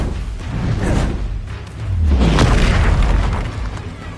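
Bombarda spell blasts in Hogwarts Legacy, a pair of loud booming explosions with whooshing bursts, the second deeper and longer, rolling out over a few seconds.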